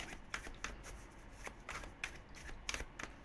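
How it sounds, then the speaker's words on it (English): A tarot card deck is shuffled by hand, several quick riffling bursts separated by short pauses, close and quiet, with no talking. "I'm going to shuffle this deck 3 times"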